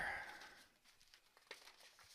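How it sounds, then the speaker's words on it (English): Sheets of paper are shuffled and crinkled close to the microphone at a desk, a brief rustling burst followed by softer scattered handling sounds, quiet overall with no talking. "I'm shuffling papers again."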